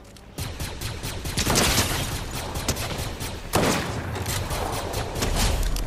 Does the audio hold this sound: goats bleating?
no